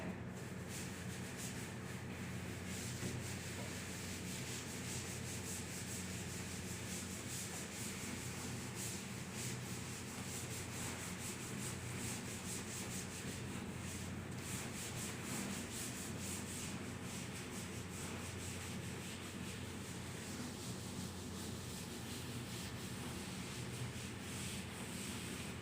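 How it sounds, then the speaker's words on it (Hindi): A whiteboard being wiped clean during a Class 10 maths lesson on polynomials, giving a steady, continuous rubbing and scrubbing sound that lasts throughout, close and even, with no talking. "इसको मैं रब कर देता हूं"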